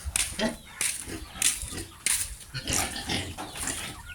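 Hungry native pigs squeal and grunt in repeated bursts at a farm around feeding time, fairly near, with short pauses between the cries.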